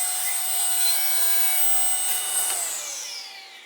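Table saw ripping wood along the grain for a simple bookshelf, a steady whining blade cut that winds down as the cut ends, with no talking.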